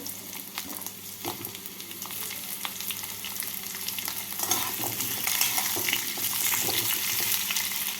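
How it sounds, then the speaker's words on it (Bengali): Pumpkin, potato, flat beans and eggplant frying in hot oil while being stirred, a close steady sizzle with scraping stir sounds and clicks, rising a little toward the end. "সিম আর বেগুন সবজিগুলোকে তেলের মধ্যে নাড়াচাড়া করে নেব"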